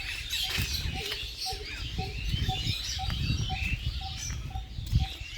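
Birds chirp and tweet in short repeated calls in a park, over a busy outdoor background with distant voices and children faintly audible.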